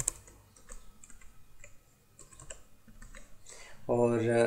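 Keys clatter on a computer keyboard as an address is entered into an HTML registration form, a run of soft irregular clicks that ends in a louder burst near the close.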